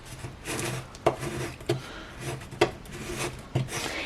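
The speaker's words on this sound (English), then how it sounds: "Give it a good scrape." A plastic scraper rubs repeatedly over transfer tape laid on an acrylic sheet, giving a steady close rasping scrape with a few sharper strokes standing out, no talking.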